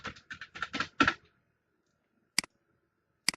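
A search phrase typed on a computer keyboard: a fast burst of clattering keystrokes for about a second, then silence broken by two single, sharp, isolated key presses, close and clear.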